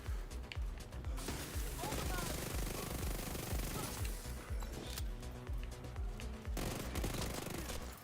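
Sustained automatic gunfire rattles through a firefight in The Division 2, dense and loud for most of the stretch, with brief lulls and a voice speaking over it.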